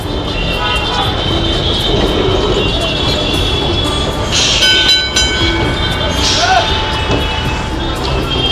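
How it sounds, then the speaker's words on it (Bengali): A Kolkata tram rolls along its rails with a steady rumbling clatter and occasional metallic squeals, amid loud street traffic noise and some talking. "দেখুন ট্রাম চলছে"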